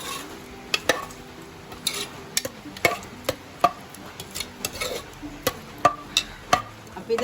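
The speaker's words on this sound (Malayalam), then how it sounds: "ഇനി ഇതെല്ലാം കൂടി നമുക്കൊന്ന് ഇളക്കി ചൂടാക്കി എടുക്കാം." Thick lentil curry, katti parippu, stirred and heated in a pan: a series of sharp metallic spoon knocks and scrapes against the pot at irregular intervals over a faint low sizzle, close and without speech.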